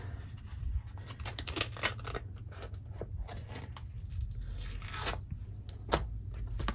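Close crinkly tearing and scraping of taped paper directions being peeled off a log cabin table runner fabric kit, irregular papery rips over a low hum.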